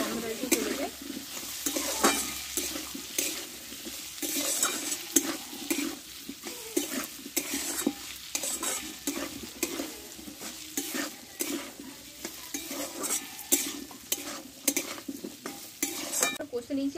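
Grated ginger stir-fried in a pan for pumpkin chhakka, a continuous close sizzle broken by frequent spatula scrapes and metallic clinks against the pan, busy and rhythmic with no voices over it.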